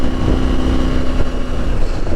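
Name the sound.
motorcycle shifting gears with quick shifter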